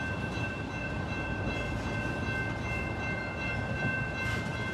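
Train passing in Plymouth, Michigan, a steady rumbling roll of rail cars with a faint whine of wheels, constant and moderately loud with no speech.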